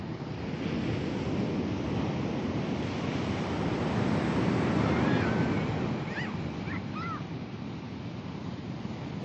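Surf rolls continuously onto a beach at Trinidad, California, a broad rushing wash swelling and easing under wind noise, with a few faint high squeals near the end.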